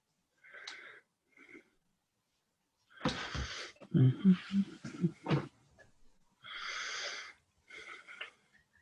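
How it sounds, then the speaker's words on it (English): Breathing picked up by a microphone on a group video call: a few soft, breathy puffs at first, then louder rough huffing and wheezy exhalations mixed with some sounds of people talking, close to the mic. "I can hear somebody breathing."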